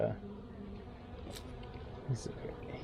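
Honeybees buzz around a nucleus hive during an inspection, a soft steady drone with individual bees passing close now and then, under quiet talk.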